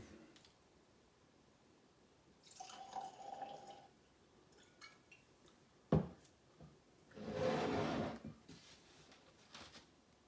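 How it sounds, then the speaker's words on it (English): E.H. Taylor Small Batch bourbon whiskey poured from a bottle into a glass, with quiet clinks and rustles before two short bursts of liquid flow, the second louder and longer, all fairly close and without talk. "Let's give it a pour and see what we got."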